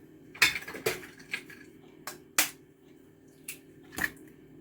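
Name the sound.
whisking eggs into oil and sugar in a bowl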